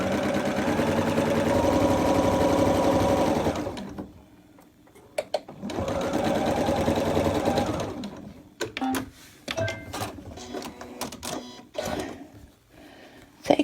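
Sewing machine stitching an eighth-inch seam down the outside edge of a 3D pinwheel quilt block, running in a steady whir for several seconds, pausing, then resuming with short bursts and clicks up close.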